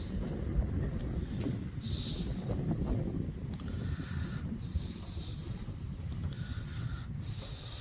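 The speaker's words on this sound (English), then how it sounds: "Very windy today." Strong wind at Fort Fisher State Park on the North Carolina coast buffets the microphone in a constant low roar and rumble with hissy gusts throughout.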